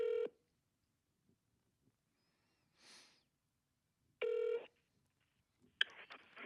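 A telephone call is placed to a home improvement store: loud, clean dial-tone beeps come in short bursts separated by quiet gaps, ending in a clicking, ringing connection.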